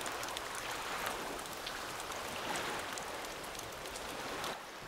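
Rain from a phone's ambient sound mixer layered into a beach scene, a steady dense patter of raindrops on a surface, even and continuous throughout with no talking.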